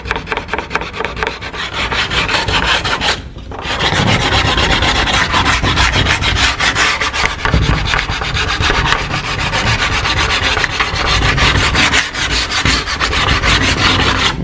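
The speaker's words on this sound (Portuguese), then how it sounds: "Depois você vem com a lixinha, as costas da lixinha aqui" Sandpaper rubbed by hand across a varnished wooden door, a steady close, dense scraping that runs almost unbroken, with one short pause early and a brief dip near the end.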